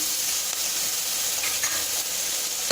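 Ginger garlic paste and onions sauté in a pan with a continuous bright sizzle and hiss, joined by light stirring scrapes, close and steady with no voices.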